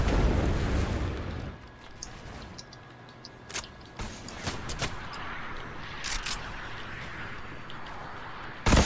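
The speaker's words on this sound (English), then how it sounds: "Rockets incoming." Rocket explosions in the Fortnite battle royale video game, with a loud blast at the start, a few sharp bursts and pops scattered through the middle, and another hit right at the end.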